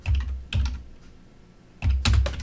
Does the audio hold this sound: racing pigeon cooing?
no